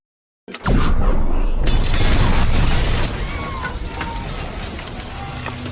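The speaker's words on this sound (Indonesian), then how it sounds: "ledakan terjadi di rumah kedua orang itu" A house explodes in a film scene, bursting in suddenly after near silence with a huge roaring blast and shattering debris, then settling into a sustained rumbling roar that slowly fades.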